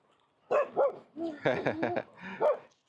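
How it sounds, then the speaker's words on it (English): A young dog barks and yips in a quick string of bright, close bursts during a social walking practice, with several separate barks spread over a few seconds. "especially since Mr. Sage here likes to bark"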